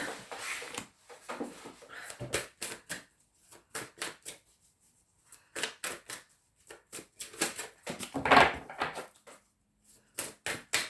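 Tarot cards shuffled by hand, bursts of crisp riffling and flicking that come in uneven groups with short pauses between, close and fairly loud.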